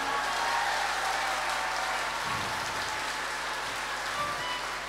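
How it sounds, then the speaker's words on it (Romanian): Audience applause at a Romanian folk music expo in Rome, a steady broad wash of clapping across the whole span, fairly distant and hiss-like with a faint low hum beneath, no voices standing out. "Aplauze din partea dumneavoastră!"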